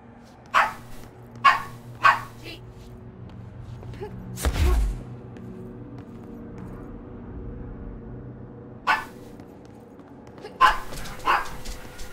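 A dog barks in short sharp bursts, single and double, spaced across a quiet room with long pauses between them, and one louder closer bump or thud in the middle.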